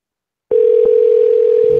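A steady telephone tone starts abruptly after a brief silence and holds loud and unbroken, a line signal heard while a call is being placed.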